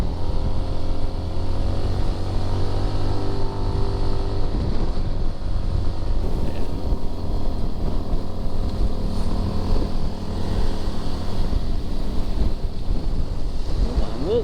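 Strong wind roars over a boat ride on the Agos River in Infanta, Quezon, a loud steady rush of wind buffeting the microphone along with a low engine drone and water noise.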